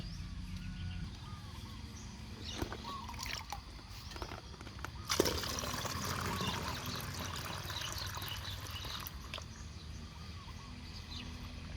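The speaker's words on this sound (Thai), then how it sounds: "หลังจากนั้นเดี๋ยวเราก็จะตักน้ำซาวข้าวใส่ลงในขวดเลย" Rice-washing water is scooped and poured into a bottle for a rice-water microbial solution, a steady faint trickle and slosh running throughout with a brief louder splash midway, no talking.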